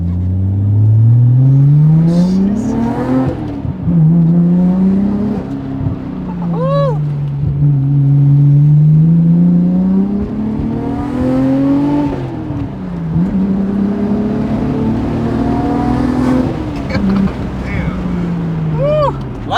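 A JDM car running on E85 accelerates hard from a standstill, its engine revving up repeatedly through the gears with loud rising and dipping pitch, heard from inside the cabin while people talk.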